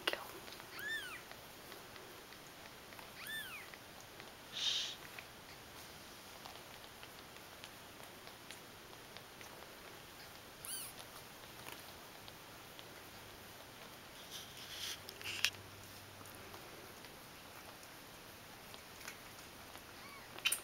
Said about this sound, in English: They're pretty little kitties.